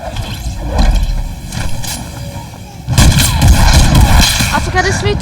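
Shotgun blasts in the video game Fortnite, heavy booming shots with a louder stretch of gunfire in the second half, punchy and close amid game noise.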